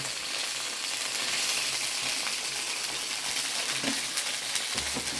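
Food frying in a pan with water, spices, salt and turmeric added, being stirred by hand at home; a steady close sizzle fills the whole stretch, with a few light scrapes and clinks of the spoon near the end.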